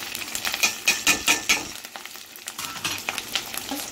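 Crushed garlic, curry leaves and asafoetida fry in hot oil for an amaranth chutney, with a steady close sizzle broken by rhythmic scraping strokes of a stirring spoon.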